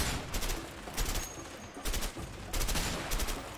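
Gunfire in the video game A Way Out comes in rapid bursts and volleys, several clusters of sharp shots separated by brief gaps, moderately loud and slightly distant.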